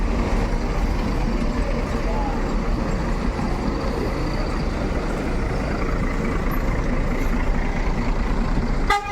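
Intercity bus departing Kampung Rambutan terminal, a steady loud engine rumble with traffic noise, close and continuous, with a short air-brake hiss at the very end and voices mixed in.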